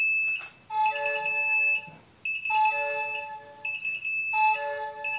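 An InkBird Smart thermostat used for a reptile terrarium gives a low-temperature alarm: three clear bursts of rapid electronic beeping, each lasting about a second, separated by short gaps, with no talk.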